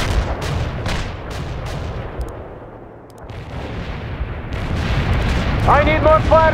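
Artillery strike in the World in Conflict strategy game: a rapid series of heavy booming impacts and rolling explosions, loud and layered, with radio-style voices chattering over the barrage.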